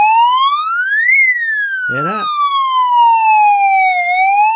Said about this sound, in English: Sounds like a police car, that, doesn't it?